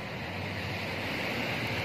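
Indian Ocean surf off a fishing-village beach, a loud steady roar of breaking waves mixed with wind buffeting the microphone, no voices.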